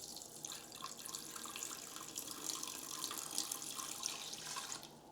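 Two cups of water poured into the base of an Instant Pot, a continuous soft splashing stream, fairly quiet and lasting the whole moment without a voice.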